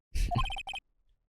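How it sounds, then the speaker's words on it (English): A phone ringtone in the Ace Attorney: Trials and Tribulations video game: a short, bright electronic jingle of quick repeated tones lasting under a second, heard alone and followed by silence. "What kind of ringtone is that?"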